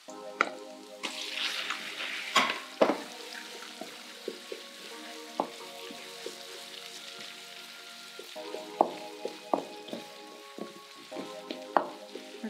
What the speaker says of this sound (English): We're gonna start by sauteing our onions and garlic, as well as our shrimp, just until our shrimp gets pink.